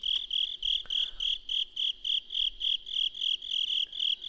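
Rhythmic cricket chirps repeating steadily in a video game shrine, about three pulses per second, bright and close, with no voices over them.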